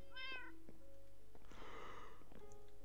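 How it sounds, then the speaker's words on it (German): Minecraft cat meows twice, a short high mew followed by a longer, drawn-out meow, clear and close over a quiet game background. "Warum sitzt hier ein Kätzchen?"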